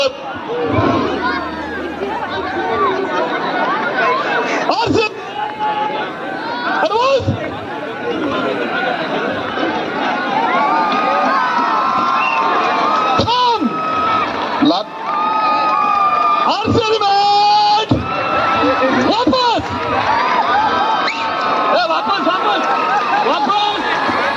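A large crowd shouts and yells in a Rapid Action Force riot control demonstration, a loud, close roar of many voices with surges of cheering and cries that continue without a break.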